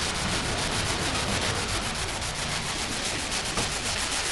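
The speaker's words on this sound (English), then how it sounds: "you want to use the longest sanding block possible for a panel" Steady, continuous rasping of a sanding block rubbed back and forth over a car body panel, close and fairly loud, with no talking.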